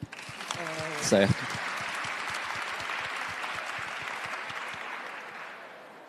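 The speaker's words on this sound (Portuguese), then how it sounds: "Primeiro eu queria pedir uma salva de palmas para Tiago." Applause from an audience for a Brazilian artist, clapping that swells quickly and continues steadily before easing off, with a brief spoken word near the start.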